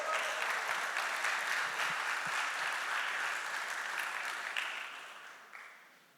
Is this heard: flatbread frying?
no